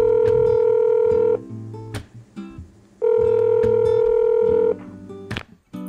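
A phone call is dialed: loud, sustained electronic telephone tones sound in two long bursts with short gaps, over a low musical backing.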